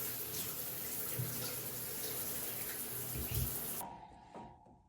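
Tap water runs steadily for bathing two spaniel dogs, a constant close rush with a few soft thumps, cutting off abruptly near the end to leave faint room noise.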